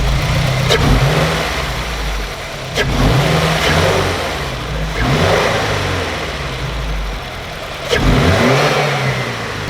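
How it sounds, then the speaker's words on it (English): A Subaru WRX with a newly installed intake revved repeatedly while stationary, loud close engine note rising in several revs and settling back, with an airy whoosh riding over each rev. "you can definitely hear more of a whoosh noise when you rev it"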